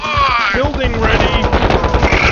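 Gunfire pours into a camp in the KKND real-time strategy game: rapid, dense bursts of shots rattling almost without pause, loud and busy, with a voice speaking over part of the barrage.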